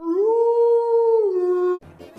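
Characters in the Atlas & Axis animated story imitate a wolf howl, one long sustained tonal cry rising then holding steady before dropping away, loud and close, followed by a brief noisy rustle.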